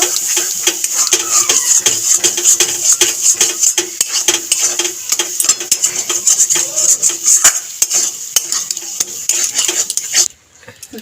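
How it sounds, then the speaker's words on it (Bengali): A thick bottle gourd peel paste is stirred and fried in a pan with a little sugar, a utensil scraping and clinking against the pan in a steady run of close taps over a soft sizzle. "সব সঙ্গে দেবো নাড়িয়ে চাড়িয়ে একটুখানি বাটাটাকে ভেজে নেব।"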